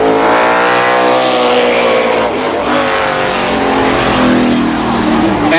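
Stock race cars roaring past on the Columbus Motor Speedway oval, a loud sustained multi-engine drone with rising and falling pitch as they pass close by, no voices.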